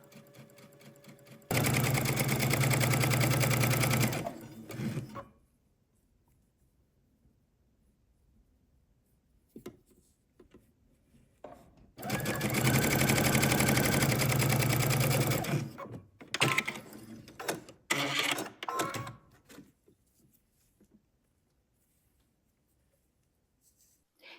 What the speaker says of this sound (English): we're going to pivot and just continue sewing down the length of the tie